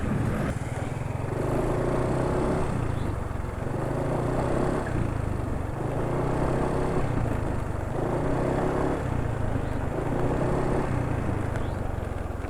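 Motorcycle engine idling steadily on Shell Advance Power 15W50 oil, heard close up, a continuous low rumbling drone with a slight periodic pulsing and no talk over it.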